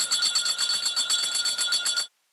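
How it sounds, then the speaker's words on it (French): An electric bell rings continuously at a swearing-in ceremony as members of the Constitutional Court make their entrance before a huge crowd, a loud, steady metallic trill lasting about two seconds before cutting off abruptly. "La cloche est en train de retentir pour annoncer leur entrée."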